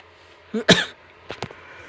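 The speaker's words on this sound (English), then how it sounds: "I'm coughing like crazy." Two short coughs, one sharp and loud, then a quieter double burst, close to the listener with near silence around them.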